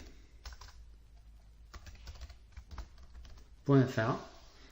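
Short bursts of keystrokes on a computer keyboard entering a web address, close clicking under soft speech, ending in a louder spoken phrase.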